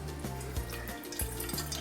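Liquid from an opened can of tuna is poured out past the pressed lid, heard as a close, continuous trickle and splash with a few small knocks, no voices.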